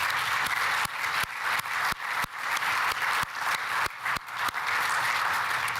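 Audience clapping at an economic development announcement in Tennessee sounds as a steady run of sharp, fairly even claps close by, moderately loud and without voices.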